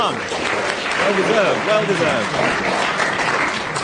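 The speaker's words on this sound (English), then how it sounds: "The audience, recognising brilliant play when they see it, bursts into spontaneous applause." Studio audience at a comedy panel game bursting into steady, loud applause that fills the whole stretch, with a brief word spoken under it.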